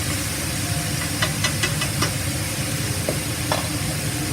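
Dry aged beef bulgogi stir-fried in a hot wok gives a steady close sizzle, with a few brief scraping stirs and clinks against the pan.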